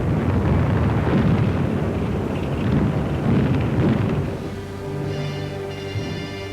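High explosive bombs from a heavy WW2 air raid rumble in dense, booming low bursts that roll together, loud and distant-sounding, then fade into a steadier drone.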